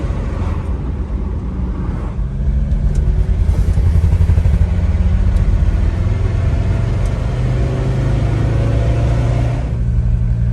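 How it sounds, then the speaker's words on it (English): A 1976 Mercedes-Benz 300D non-turbo diesel car drives along with a steady, loud low rumble and clattering diesel drone, pulling down on a road with some shift in engine note near the end, no talk. "Seems to be driving okay besides the lack of power."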